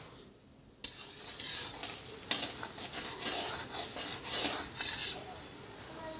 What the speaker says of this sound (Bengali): বিরুলির ডাল দেওয়ার পর বিরুলির ডালটা আবার আমি ভেজে